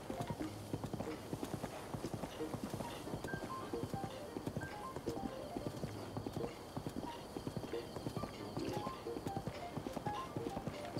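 Horse hooves clip-clopping at a steady gallop-like rhythm while riding across open terrain in the video game The Legend of Zelda: Breath of the Wild, moderately close, with soft game music underneath.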